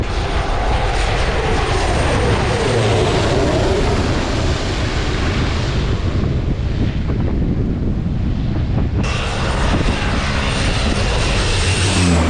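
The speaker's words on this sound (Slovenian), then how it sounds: "Za mano prihaja avion," A fixed-wing airplane comes in to land low and close overhead at Saint Barthélemy, its loud engine roar swelling over heavy wind buffeting on the microphone before cutting off sharply partway through.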